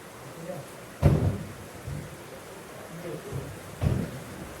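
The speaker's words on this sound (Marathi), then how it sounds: "आता बघा पाऊस पडतोय" Steady rain hisses throughout, broken by two low, rumbling booms of thunder a few seconds apart.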